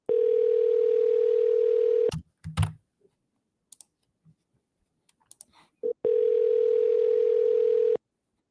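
An outgoing phone call rings unanswered: two long, steady ringback tones separated by a few seconds of near silence broken by faint clicks and taps.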